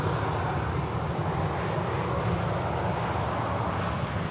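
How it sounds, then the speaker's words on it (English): A Turkish airliner departs Manchester Airport for Edinburgh, producing a constant, fairly loud broadband engine roar with a low rumbling base and no speech over it. "Here is the Turkish aircraft."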